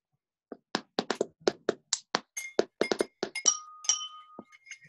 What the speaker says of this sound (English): I'm using my glass cup and my pencil box